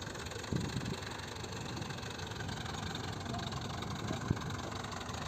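A tractor engine idles steadily and fairly close during corn silage work, a low continuous rumble with a couple of faint knocks along the way.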